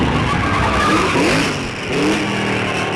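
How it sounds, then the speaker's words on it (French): A 1951 race car driven hard on a very fast circuit, its engine roaring steadily close by with shifting pitch as it sweeps through, a faint tyre squeal mixed into the continuous loud drone. "Fisch pilote son bolide avec une précision éblouissante sur un parcours très rapide"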